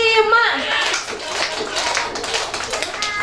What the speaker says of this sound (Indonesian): kita coba tepuk lagi ya